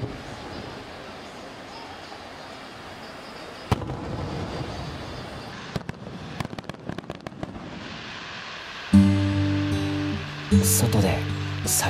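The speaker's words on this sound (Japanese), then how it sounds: "外で酒を飲みながら花火を見る。" Fireworks display over the sea at Usami, Japan: a sharp boom, then a run of crackling pops and bangs, ending with louder tonal, overlapping sounds and voices against a constant background rumble.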